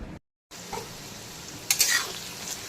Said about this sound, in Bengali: আমার পেঁয়াজ কুচিটাও কিন্তু ভাজা ভাজা হয়ে এসেছে